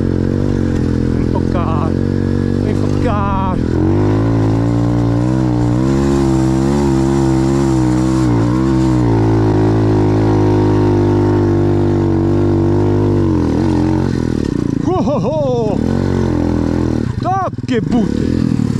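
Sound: motocross bike engine revving

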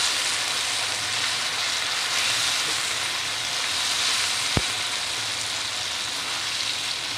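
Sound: shrimp paste (terasi) sautéing in a pan

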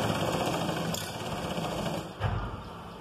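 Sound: sewing machine stitching around the pant leg

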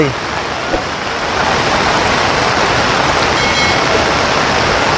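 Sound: floodwater rushing over a bridge

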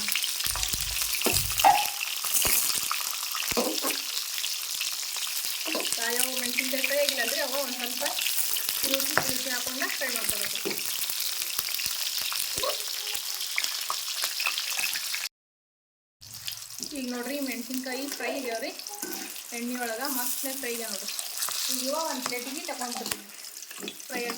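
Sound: green chillies frying in oil

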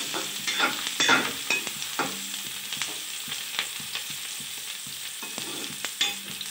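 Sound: onion frying in a pan

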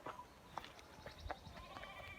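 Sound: sheep bleating

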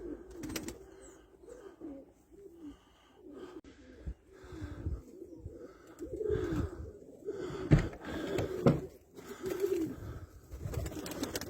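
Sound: pigeons cooing

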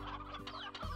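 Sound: chickens clucking in the video game Slime Rancher

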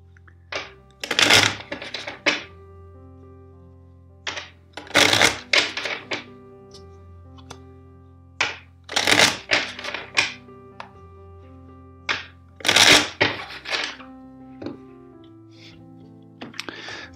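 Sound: shuffling tarot cards

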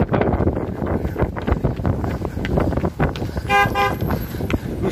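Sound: car horn honking

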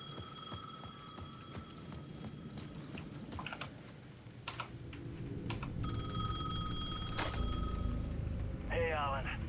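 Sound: payphone ringing in video game Alan Wake 2

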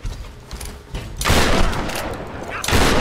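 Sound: gunshot in the video game Tomb Raider

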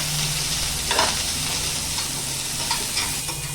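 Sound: onion being fried and stirred in oil on low heat

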